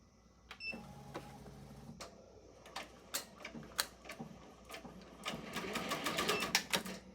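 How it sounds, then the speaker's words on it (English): An embroidery machine sewing a placement stitch, with rapid mechanical needle ticking in short bursts and a brief hum, the clatter quickening into a dense run toward the end, close and with no talk. "So we are back over to our embroidery machine now."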